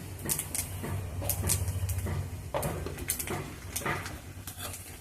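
Bay leaves, five or six dried red chillies and five-spice hit hot oil in a home Bengali kitchen for kochu shak, giving a close, steady sizzle and crackle with scattered sharp pops and light utensil clatter.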